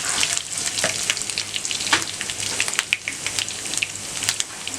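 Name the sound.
onions and ginger frying in a pan for beef nehari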